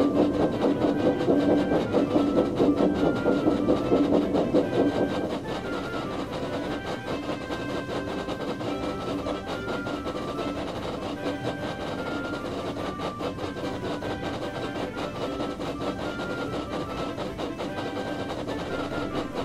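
A heavy train hauled by steam engines pulls out of a platform, a steady rumbling and clattering of wheels and engines, louder at first and then settling into a constant even roll.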